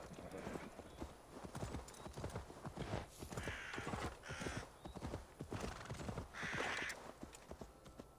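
A horse in the video game Assassin's Creed Valhalla clip-clops in a steady, brisk rhythm, with a few loud neighs and whinnies rising over the hoofbeats. Faint game ambience runs underneath.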